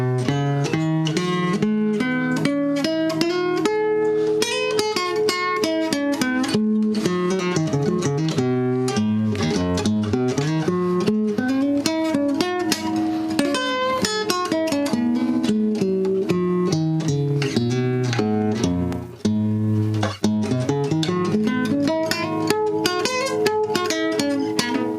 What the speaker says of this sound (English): I'm going to play you one more that you're going to enjoy very much, and happens to be the pentatonic that comes out of a melodic minor scale.